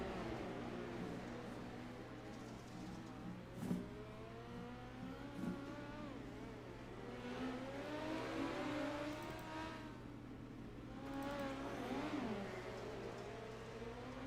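Sprint cars race around a dirt track at a Chili Bowl Nationals prelim night, engines rising and falling in pitch as they circle at a distance, faint under steady background noise.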